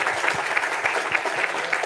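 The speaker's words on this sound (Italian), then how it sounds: "Un applauso." An audience at an Italian book presentation gives steady, moderately loud applause, with individual claps audible in a fairly even rhythm throughout.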